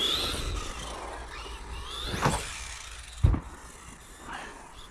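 A Rlaarlo Rogue One RC car running on a carpet track on 3S power, its motor whining and rising in pitch as it accelerates, with a couple of sharp thuds from bumps, heard at moderate distance.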